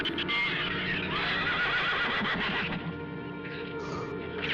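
A horse whinnies loudly in a film soundtrack, a long shrill neigh over busy background noise and hoofbeats, mixed with voices.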